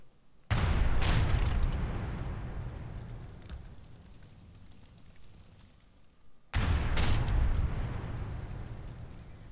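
Heavy cannon fire against a warhead in the strategy game Age of Empires III: two loud booming blasts about six seconds apart, each with a sharp crack and a long rumbling decay, heard alone.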